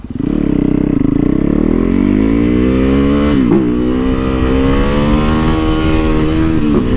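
A Harley-Davidson Sportster Iron 883 with its air-cooled 883cc V-twin revs loud and close, the deep lumpy engine pitch climbing, dipping briefly, then rising again in a continuous throaty drone.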